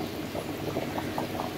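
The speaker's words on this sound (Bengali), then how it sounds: "আলু ঘাটি রান্না শেষ, টকবক করে ফুটতেছে" Beef and potato ghanti curry, a Bogura dish, bubbles as it boils in the pot, with close, steady plopping bursts repeating in a quick rhythm and no voices.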